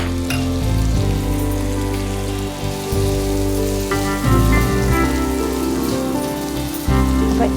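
Onions frying in a mix of oil and ghee for a fish biriyani make a steady, dense sizzle and crackle, close and continuous, with faint stirring underneath.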